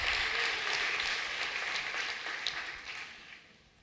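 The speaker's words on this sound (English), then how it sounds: "So should we give Movable Inc. a round of applause for this amazing," An audience at a sponsor keynote event applauds with a dense patter of clapping that gradually fades away.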